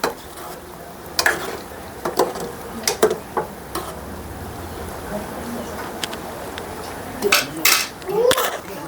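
A spoon stirs muthiya batter with buttermilk and sugar in a pot, giving intermittent clinks and scrapes against the metal. Several sharper knocks come near the end over a faint background hum.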